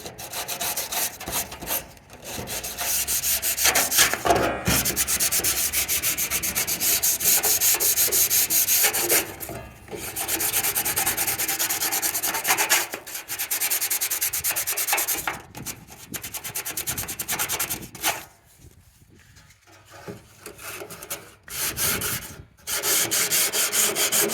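Hand sanding wood with coarse 100-grit sandpaper on a 1977 StarCraft Holiday boat, working spots a power sander missed. Long stretches of close, vigorous scratchy back-and-forth strokes with short pauses in between, no talking.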